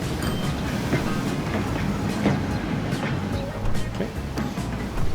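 A train in the Transport Fever video game rolls past a station, making a loud, continuous rumble with rhythmic clickety-clack over the rails and a dense background roar throughout.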